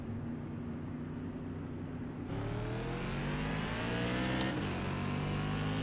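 A NASCAR Modified race car engine in iRacing drones steadily at race start, then rises in pitch and volume as it revs up in first gear, loud and close with a second engine tone joining partway.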